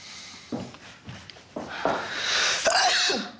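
A single sneeze bursts out at close range in a quiet indoor room, with soft shuffling and movement noises around it and no talking.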